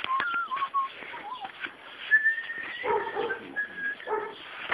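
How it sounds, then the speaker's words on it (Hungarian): High, wavering whimpers and whines from a dog come in short bursts with occasional yips, fairly close and moderately loud, with some faint talk in the background. "Kutyánk van."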